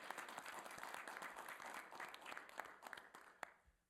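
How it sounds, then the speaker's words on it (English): A board of education meeting audience applauds a student, a faint, fairly distant wash of steady clapping that tapers off near the end, with no voices over it. "So we'll give him a round of applause here first."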